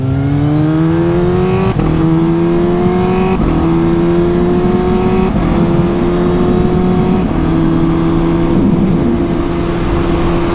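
Suzuki GSX-S 750 motorcycle accelerating hard with a Translogic quickshifter, engine revs climbing in steady rising pulls broken by quick clean gear changes, loud and close with wind noise throughout.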